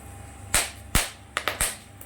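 Whole cinnamon, cloves and black peppercorns crackle in hot oil left after frying potatoes, giving about five sharp, separate pops at uneven intervals over a quiet background.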